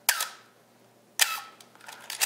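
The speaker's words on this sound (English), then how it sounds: "Canon has that distinctive whiny shutter sound" Close-up Canon A1 film SLR shutter releases at slow speeds: a crisp mechanical snap, a pause of about a second, then a second snap followed by a few lighter clicks, alone in a quiet room.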